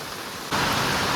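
Steady hiss of heavy rain in Mumbai's Bhandup area that suddenly grows louder halfway through, a dense unbroken wash of noise.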